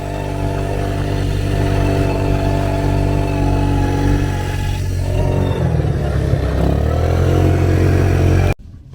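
A dune buggy engine drones loud and steady on a ride across the Dubai desert, revving and clattering the whole way with a rough mid-range roar, then it cuts out sharply at the very end.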